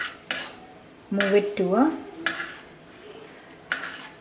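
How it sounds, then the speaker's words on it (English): A spoon clinks against a bowl in a few sharp taps while lemon juice is mixed into homemade food colouring, with a brief spoken phrase in the middle. "I'm going to add in again less than 1/4 teaspoon of lemon juice, and I'm going to mix it."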